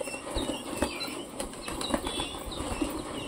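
Pigeon beating its wings as it takes off and flies away, a run of soft, rapid flapping bursts close by, fairly quiet and with no other sound over it.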